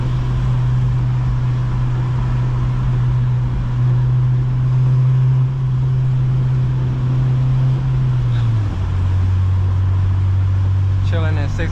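An 8th gen Honda Civic Si cruises in sixth gear in the rain, a loud, steady low engine drone with road noise that dips slightly in pitch near the end, recorded from inside the car.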